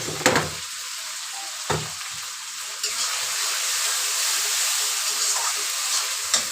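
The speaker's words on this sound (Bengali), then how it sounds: "ভালো করে মশলাটা কষিয়ে নেব।" Chili, ginger and cumin paste fries steadily in a pan for Bengali chicken kasha, a dense close sizzle with a few sharp clinks of a spoon against the pan and no talking.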